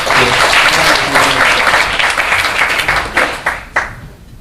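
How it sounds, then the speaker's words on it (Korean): A seminar audience bursts into loud, dense applause that holds steady, then thins into a few scattered, distinct claps as it dies away near the end. "박수도 좀 쳐가면서 하시죠"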